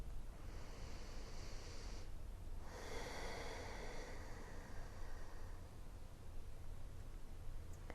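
Two long, deep breaths during a postpartum yoga session: a slow inhale, a short pause, then a longer exhale, close and breathy over a faint steady background hum.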